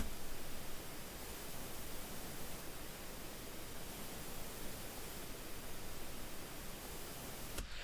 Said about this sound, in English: I had to export this in 16-bit to get the dither even audible